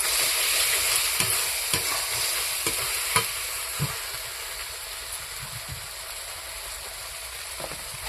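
Spice paste (masala) for ghugni with kabuli chana and peas fries in a pan, a steady loud sizzle broken by regular scraping strokes of a stirring spoon, with no voices.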